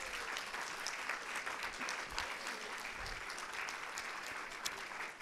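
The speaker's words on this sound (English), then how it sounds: "So if we can give everybody a" A church congregation at a Sunday morning thanksgiving service applauds in a steady, moderately distant wash of clapping that continues throughout, with a few faint low thumps underneath.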